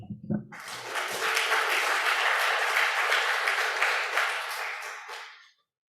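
An audience at the 2023 Nebraska Youth Poet Laureate finals ceremony bursts into dense, sustained applause after a brief rustle. The clapping stays full and even for several seconds, then tapers and stops abruptly.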